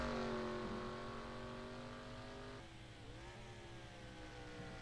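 Race cars of the NRChile series at Road America, taking the final Canada Corner: a loud, steady engine whine with several overlapping pitches that drop as the cars lift and shift, mid-distance and without commentary over it.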